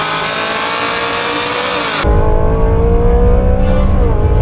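Race car engine under hard braking into a corner on a racetrack, loud and close, roaring steadily then dropping sharply in pitch at a downshift before holding a strong, droning tone.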